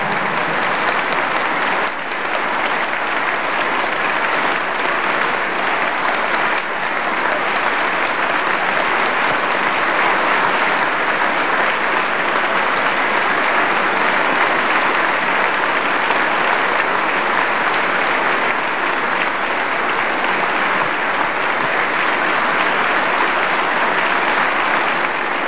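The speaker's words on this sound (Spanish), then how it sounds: "Un aplauso de pie para Mónica." Sustained standing ovation for Mónica at a national party congress hall, a dense, steady roar of many hands clapping that continues evenly for the whole stretch with no voices over it.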